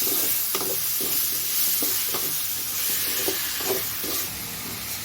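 Tomatoes fry in a pan under a steady close sizzle, while a spoon scrapes and stirs in repeated strokes through the hiss; no one speaks.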